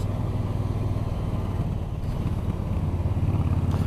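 A Yamaha R3 sport motorcycle engine drones steadily nearby, a continuous low rumble that shifts slightly partway through.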